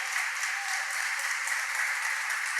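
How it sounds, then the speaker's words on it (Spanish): A church congregation claps together at a worship service, an even continuous patter that sounds distant and thin under a faint room echo. "Aplauda al Señor."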